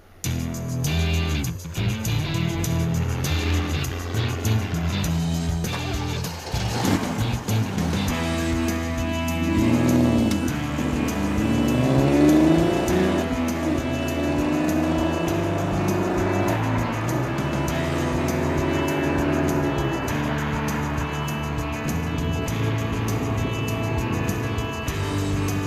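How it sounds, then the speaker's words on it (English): A 1971 Triumph TR6 engine revs and pulls hard close by, rising and falling through gear changes over a steady roar, with no talking. "put the engine under some pressure and take the Triumph on a spirited test drive"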